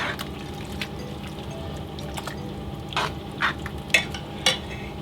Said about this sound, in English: I've squeezed our lemon, just about a teaspoon of lemon juice. Put that in and you stir that in.